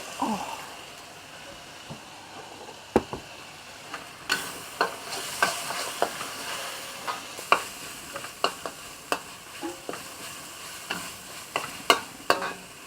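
Pounded dry shrimp frying with spices and a cinnamon stick in a pan, a soft continuous sizzle broken by frequent sharp scrapes and taps of a utensil stirring, close and moderately loud.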